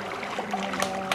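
Water splashes during a baptism by immersion at a church baptism service, with two brief, sharp splashes over a steady, faint wash of water and room ambience.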